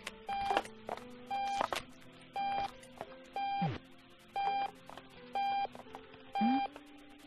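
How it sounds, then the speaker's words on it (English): Repeated electronic alarm clock beeps in Octodad: Dadliest Catch, short bursts of tonal bleeps in an even rhythm over a low game-ambience hum, with a brief murmur from a voice. "Turn off the alarm."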